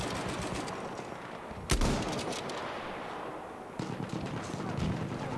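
Rapid enemy machine gun fire from Battlefield 1, a steady distant rattle punctuated by a loud close blast and a second sharper burst later, with no talk.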